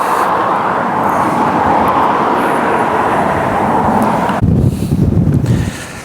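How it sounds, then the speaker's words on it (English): Strong wind roars steadily across the microphone in an exposed bog, then heavy gusts buffet it with low rumbling thumps near the end. "It's very windy here now in the bog, very exposed."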